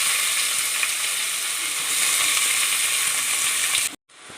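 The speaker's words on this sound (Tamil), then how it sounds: "கருவேப்பிலை போட்டுக்கலாம் வெங்காயம் போடலாமா வெங்காயம் சேர்த்துக்கலாம்" Onions and curry leaves fry in hot oil for garlic rice, giving a loud, steady close-up sizzle that holds evenly before cutting off abruptly near the end.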